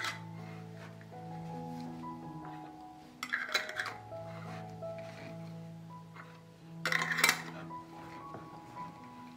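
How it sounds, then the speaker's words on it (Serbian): Glass canning jars clink and knock against each other and a hard surface as rims are wiped and new lids put on, two sharper rattling bursts standing out over quieter handling noises. "Obrisat ću vrh tegle. I zatvorit ću ih sa čistim i novim poklopcima."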